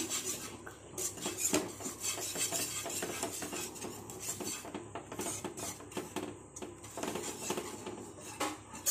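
A spoon scrapes and clinks repeatedly against a pan while a maida-thickened white sauce for pasta is stirred slowly, an irregular rhythm of close metallic rubbing throughout.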